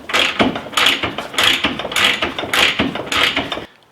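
A ratchet wrench works loose a 14 mm hub bolt on a Ferrari, clicking in about six rhythmic, close-up bursts before stopping.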